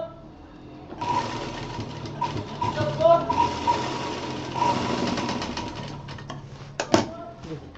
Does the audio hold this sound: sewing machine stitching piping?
yes